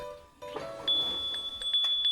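A doorbell rings with a sustained electronic tone, starting after a short pause and holding steadily through the end, with faint background sounds.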